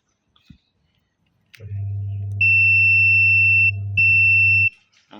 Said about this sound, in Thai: ใช้มันติมิเตอร์นะครับนี่ ปรับไปที่ ย่านวัดเสียงนะครับ